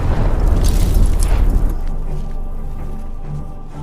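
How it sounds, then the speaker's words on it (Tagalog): A landmine explodes with a loud, deep boom that rumbles and crackles for nearly two seconds, then fades into a lingering low roar. "Dahang-dahang hinila ni Mitchell ang lubid at sumabog ang mina"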